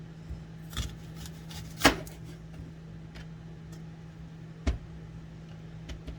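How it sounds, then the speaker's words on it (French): A knife cutting a bell pepper on a board, just a few sparse taps and crisp cuts over a low steady hum, close and fairly quiet with long gaps between strokes. "je vous reviens quand j'aurai coupé le poivron"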